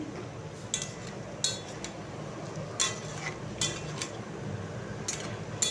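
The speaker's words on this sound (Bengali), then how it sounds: "এরপর ধুয়ে রাখা আলুগুলো দিয়ে দিলাম, দিয়ে আবারও ভালো করে মিশিয়ে দিচ্ছি।" Potatoes are stirred into a vegetable curry in a cooking pot, a spoon scraping and knocking against the metal in a few sharp, irregular clinks over a faint low background, with no talking.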